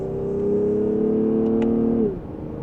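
A 2025 Lexus ES350 F Sport accelerates in second gear in Sport Plus mode, its engine note rising steadily and loud from inside the cabin before dropping abruptly as the throttle lifts, with no talking.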